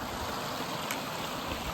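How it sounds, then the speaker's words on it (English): Broad, even rushing of a river near the Appalachian Trail, close and continuous throughout with no talking. "So this river flows right into that reservoir."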